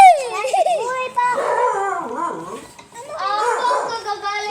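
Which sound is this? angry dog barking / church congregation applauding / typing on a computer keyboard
angry dog barking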